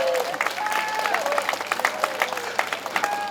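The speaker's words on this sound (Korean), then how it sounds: "박수 한번 크게 보내주십시오" An audience at a charity concert at Wolmido gives a loud, sustained round of applause for a Daehangno busker, with dense clapping throughout and a voice or tonal sound carrying over the top.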